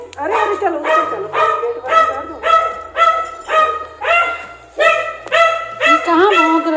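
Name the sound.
dog barking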